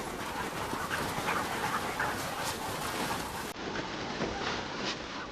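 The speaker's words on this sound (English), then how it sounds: "These dogs are absolutely mad keen to go, but wait till we let them go" Eager sled dogs at a trail camp whimper, yip and bark together in a steady, restless din, close and continuous throughout.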